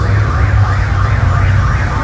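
A siren wails loud and steady throughout, its pitch sweeping up and down in slow repeating cycles over a constant low rumble of traffic or engine noise.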